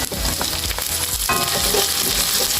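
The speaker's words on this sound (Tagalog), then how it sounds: "Igisin natin ito guys ng at least 3 minutes." Alamang shrimp paste sautéing in a hot pan for Bicol Express: a loud, steady crackling sizzle with light scraping stirs throughout, close and continuous.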